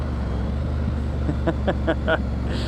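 A Triumph motorcycle engine idles with a low steady rumble, then downshifts with four quick, close throttle blips in a row.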